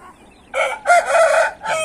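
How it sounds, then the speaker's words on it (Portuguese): A rooster with unusual coloring crows nearby, a loud, close cock-a-doodle-doo in a few strong bursts with brief gaps between them, heard alone without talk. "Um galo muito bonito, de cor diferenciada."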